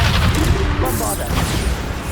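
Rumbling blast of the Bombarda explosion spell in Hogwarts Legacy, a loud sustained boom with crackling debris amid battle noise, running continuously throughout without a clear break.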